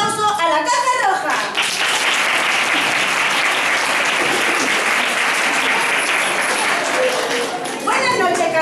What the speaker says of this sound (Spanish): Damos un fuerte aplauso a la Caja Roja.